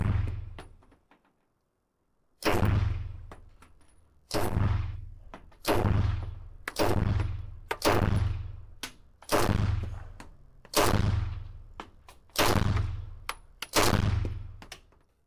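A Beretta PM12 submachine gun firing full auto with an open bolt, loud close bursts repeated about eight times in a steady rhythm, each crack ringing out and trailing off before the next burst.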